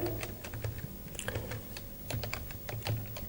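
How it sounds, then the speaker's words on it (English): Keys clatter on a computer keyboard during data entry in accounting software, a steady run of quick, close clicks and taps with no talking. "So I am typing here"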